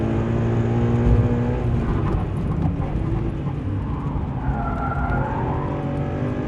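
A Toyota GT86 at speed on a track, its engine droning steadily with harmonic tones and tyre noise, close and loud throughout, with some voice underneath.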